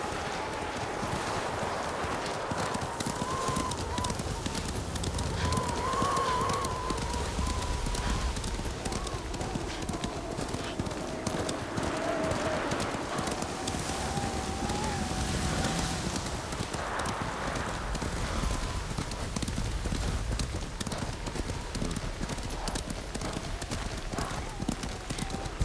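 Hooves clip-clop in a fast, steady galloping rhythm throughout in the video game Ghost of Tsushima, with a voice speaking over the hoofbeats.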